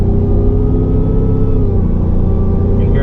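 A 2022 Ford F-150 XLT pickup accelerates hard, its engine a loud, steady close-up roar that climbs and shifts through the gears of its ten-speed transmission, with no voices over it.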